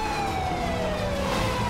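Police car siren in the game GTA5, a steady wailing tone gliding slowly downward, heard continuously amid dense background game noise at night during a gang shootout.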